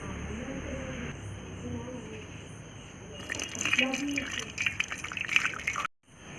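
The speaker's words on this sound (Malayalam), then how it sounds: "ഇനി നമുക്കിതൊന്ന് അരിച്ചെടുക്കാം. കല്ലും മണ്ണൊന്നും ഇല്ലാതെ നല്ലോണം ഒന്ന് അരിച്ചെടുക്കാം." Jaggery syrup strained to remove grit trickles and drips close by. A voice talks over the first part, then the pouring and splashing grow louder.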